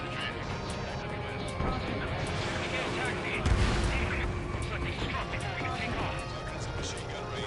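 Enemy ships in Ace Combat 7 put up anti-air gunfire against the player's jet, a dense rumbling barrage with a heavier burst midway, mixed with engine roar and heard under speech.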